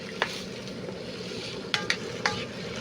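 Tomatoes sizzle steadily in a frying pan, with a few sharp scrapes and clinks from stirring scattered through the clip; close and continuous, no talking.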